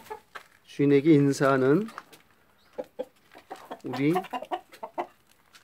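Silkie chickens cluck in their coop, giving a few loud, close calls in two bursts among softer rustling, while a person speaks nearby.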